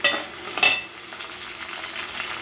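Green chillies drop into hot oil in a pan with onions, giving a sharp crackling burst of sizzle near the start that settles into a steady, softer frying hiss.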